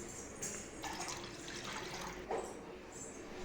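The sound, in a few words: water poured into prawn curry pan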